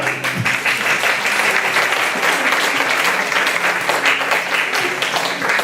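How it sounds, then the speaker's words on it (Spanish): An audience applauds steadily and fairly loudly throughout, a dense wash of many hands clapping with a faint voice or two underneath. "Un aplauso"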